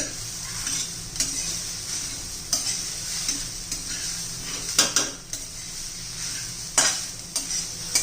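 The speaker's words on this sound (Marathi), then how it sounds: "मस्त असं मंद गॅसवर तीन चार मिनटं चांगले चार एक मिनटं तरी हलवत राहायचंय" A coconut ladoo mixture is stirred in a pan over low heat, a soft continuous sizzle punctuated by regular spoon scrapes and metallic taps against the pan; no voices.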